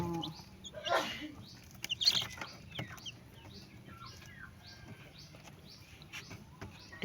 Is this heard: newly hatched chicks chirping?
yes